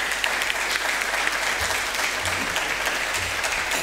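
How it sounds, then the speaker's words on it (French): Steady applause from a crowd, dense clapping that holds at an even level throughout without letting up. "Et on les applaudit."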